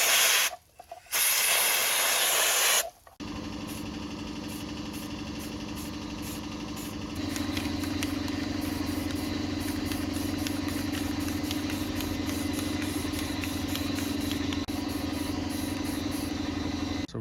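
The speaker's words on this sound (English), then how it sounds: "we're going to go ahead and give this a light sandblast" Sandblasting the mounting surface of an aluminum Alcoa semi truck wheel: a loud hissing blast opens the clip, then a long steady hiss of spray continues over a running compressor hum.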